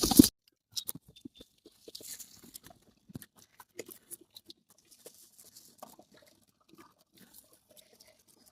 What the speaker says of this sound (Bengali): এবার আমি কবুতরকে খাওয়ান দিয়ে দেই।